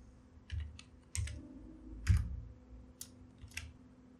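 Someone types CSS code on a computer keyboard, producing a handful of separate, light key clicks spread unevenly over a few seconds in a quiet room.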